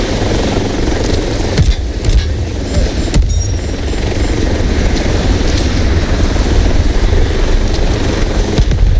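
An assault helicopter in the Delta Force shooter game roars loud and unbroken, its rotor and engine drone filling the scene with a few sharp impact bangs cutting through.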